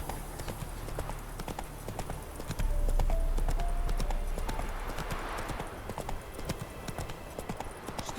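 Roach, Geralt's horse in The Witcher 3: Wild Hunt, clip-clops along with a steady, even hoof rhythm that carries through the whole stretch over a low ambient bed, close and clear.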